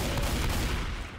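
Dense, rapid gunfire fills a short burst in a zombie shooter, aimed at a tank, loud and continuous with overlapping shots and no clear gaps.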